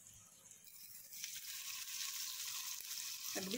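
Bangda mackerel, rava-coated, is lowered into hot oil over a low gas flame, and a steady sizzle of frying swells and holds close up with no one talking.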